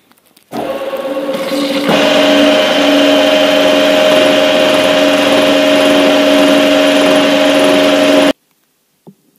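Machine cutting steel gear teeth for a Promecam RG 25 press brake modification, a loud steady motor drone with a strong whine that starts abruptly, rises in pitch after a couple of seconds, then cuts off sharply.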